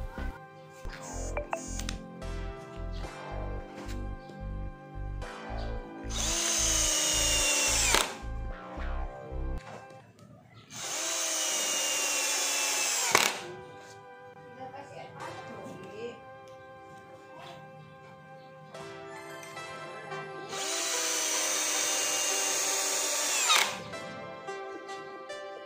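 A Bitec INA MMB 1012 L cordless drill whirs in three long bursts, each winding down as a screw seats without pre-drilling, with bouts of rapid rattling clicks between runs.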